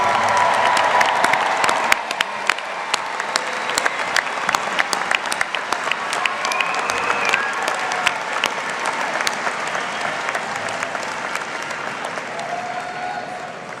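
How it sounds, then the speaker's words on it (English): Sustained applause from a large audience at a Penn State Harrisburg spring university commencement ceremony, a dense wash of clapping that stays steady for several seconds before slowly thinning, with faint crowd noise underneath. "Let's give one big, large round of applause for all those undergraduate degrees confirmed."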